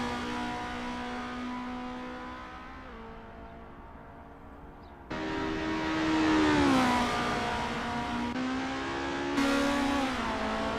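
Race car engines rev and idle while warming up at Zandvoort in an ACF Formula Championship sim race, heard as steady droning tones with rising and falling revs and a louder close engine cutting in partway through.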